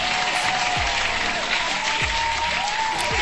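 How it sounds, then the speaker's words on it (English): Hands clapping in steady, continuous applause for contest winners, dense and close throughout, with a few faint swooping electronic tones underneath. "Hand clap to the winners."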